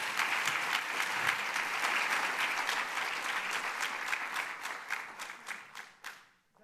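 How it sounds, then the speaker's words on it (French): Audience applause at an awards ceremony, a steady wash of many hands clapping that holds strong, then thins into scattered claps and dies out. "Mesdames et messieurs, vous pouvez l'applaudir."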